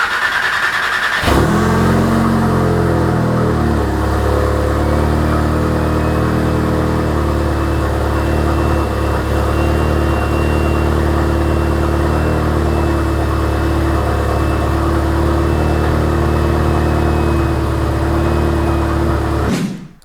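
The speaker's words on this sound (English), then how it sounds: "So I'm going to start it up and show you guys what it sounds like right now." An Audi S3 engine cranks and catches, then settles into a steady, loud idle that runs on evenly until it cuts off at the end.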